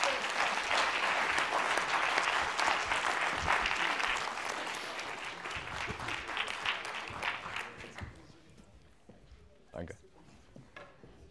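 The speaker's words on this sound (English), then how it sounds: "Big applause." An audience applauds steadily at a medical lecture on cardiac arrest ultrasound, loud and sustained for about eight seconds before thinning into scattered claps and faint murmurs.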